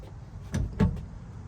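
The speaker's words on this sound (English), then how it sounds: "Bulkhead door." The bulkhead door of a Chevrolet BrightDrop 400 electric cargo van is closed inside the cargo area, producing two quick close thuds a moment apart, the second slightly louder, over a low background hum.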